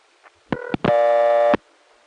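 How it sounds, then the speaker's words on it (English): A short two-tone electronic chirp followed by a longer steady low coin-collect tone on a 1974 Van Nuys crossbar payphone line, clean and close, with no voices. "The low-tone sound, which is associated with coin collect"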